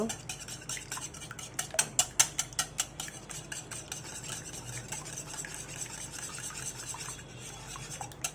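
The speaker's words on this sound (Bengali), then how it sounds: "ডিম দুটোকে ফেটিয়ে নেব" Two eggs are whisked in a bowl with rapid, evenly spaced metallic taps of the whisk against the rim, brightest in a burst early on, then a steadier scraping beat, close up with no talking.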